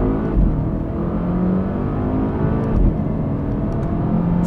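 A 367 hp Volvo S60 Polestar launches hard on mountain roads in the Serra da Estrela, its engine note roaring loud and steady as it accelerates with no talk over it.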